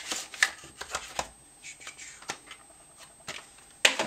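A computer SSD product box, a Corsair Neutron Series GTX, is opened up close: a run of crisp cardboard and paper rustles, taps and scrapes, ending in a sharper crackle.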